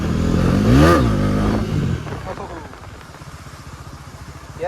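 A Bajaj Pulsar NS400Z motorcycle revs hard in a loud, close burst during a wheelie, then drops to a rougher, pulsing engine note and loud rumble as the throttle eases.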